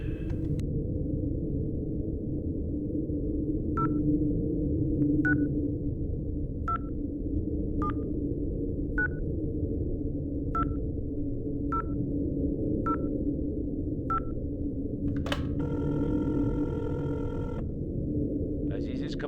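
Phone dialing and ringing in the video game Infra: a steady run of about eleven evenly spaced short tonal beeps over a constant low hum, followed by a longer, louder ring burst near the end.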